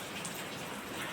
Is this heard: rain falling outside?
yes